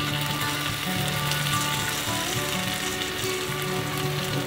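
Tomato paste sizzles steadily in a pan with softened vegetables and garlic while making a Maltese chicken meatball stew. The crackling fry is dense and continuous at close range, with no talking over it.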